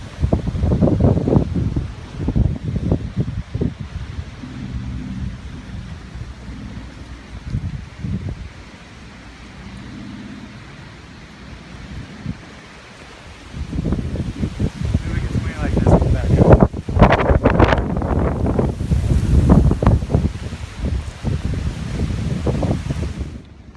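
Wind gusts and rushes across a ridge at a brush fire, with blustery noise battering the microphone throughout, easing briefly midway before building again; a person talks over it in places.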